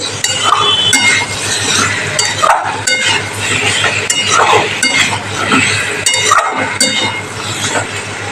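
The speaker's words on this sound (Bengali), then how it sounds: "সিদ্ধ করে রাখা আলুর সাথে মশলাটাকে ভালো করে আমি একটু নেড়ে নিচ্ছি" Boiled potatoes are stirred with spices in a pan for alur dom: a utensil clinks and scrapes against the pan in a steady, loud rhythm over a continuous sizzle.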